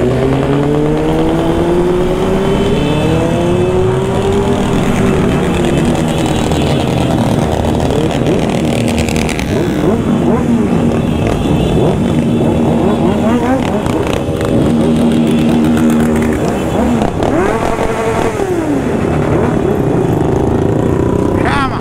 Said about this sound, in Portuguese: A moto ligou,